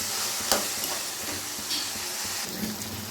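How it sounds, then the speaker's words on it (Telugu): Tomato pieces frying and being stirred in a pan for egg and prawn curry, a steady close sizzle with periodic scraping strokes of the spoon. "ఇప్పుడు బాగా వేపేసుకుందాం."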